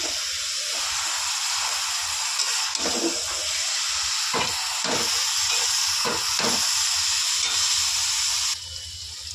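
Cabbage frying down with bhetki fish head in a pan, a steady loud hiss and sizzle running throughout, broken by a few soft stirring knocks.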